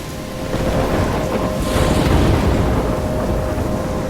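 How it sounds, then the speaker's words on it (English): Heavy thunderstorm with steady rain and rolling thunder in the video game Life Is Strange, a dense, continuous roar that swells slightly midway and has no speech. "trapped in a storm?"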